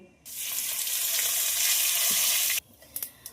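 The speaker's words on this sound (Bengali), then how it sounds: "ওই পনির ভাজা তেলের মধ্যে আমি এখানে ফোড়নে দেবো 2টো শুকনো লঙ্কা, জিরে, তেজপাতা আর হিং।" Dried red chillies, cumin seeds, a bay leaf and asafoetida hit hot oil left from frying paneer for palak paneer, giving a loud, steady sizzle that cuts off abruptly, followed by a few light clinks.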